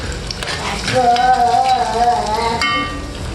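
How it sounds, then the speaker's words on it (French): Onion frying in a pot just after the water has boiled off, giving a steady, close sizzle with stirring noises and bright crackling over a continuous hiss, no talk. "je m'apprête déjà à faire frire l'oignon là"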